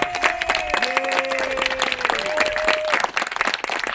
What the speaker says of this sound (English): can we please give them a round of applause and say thank you